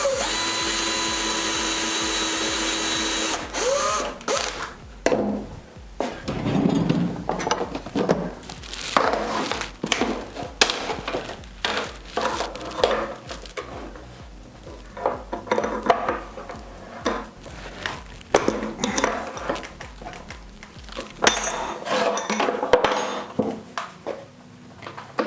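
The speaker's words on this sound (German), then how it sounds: "Dazu müssen wir erstmal den Fräser wechseln." Changing the bit on a wood router in a workshop: a steady whir runs for a few seconds, then stops, followed by a long stretch of close metallic clicks, taps and handling knocks at an irregular pace.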